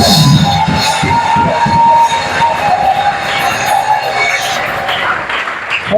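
A church congregation at a prophetic anointing service cheers and acclaims Jesus, a loud mass of shouting voices and applause that swells at first and then tapers toward the end.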